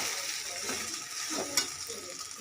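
Sabudana and fried potato are stirred in a hot pan, giving a steady close sizzle with soft scraping sweeps of the spoon and one brief sharp clink.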